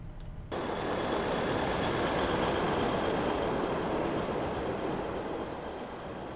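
A simulated Class 150/2 diesel multiple unit pulls away from Bath Spa station in Train Simulator 2018, a steady, close rolling rumble with engine drone and track noise building quickly after a quiet first half-second.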